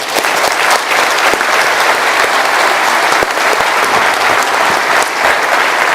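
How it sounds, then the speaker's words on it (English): An audience gives a big round of applause for honored guests at a Hall of Fame gathering. The dense, steady clapping continues for several seconds with no voices over it. "round of applause."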